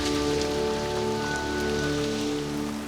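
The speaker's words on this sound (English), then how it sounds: "It's amazing because it's pouring of rain." Heavy rain pours down under trees on an island, a dense steady patter and hiss of drops striking leaves and ground, close and continuous with no voices.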